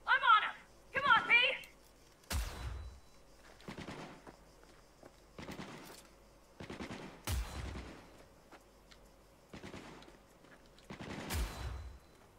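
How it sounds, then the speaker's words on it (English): Gunfire in Cyberpunk 2077 comes as sharp, loud single shots spaced a second or two apart, each with a short echoing tail, after a brief opening of voices. "How are you shooting through that wall?"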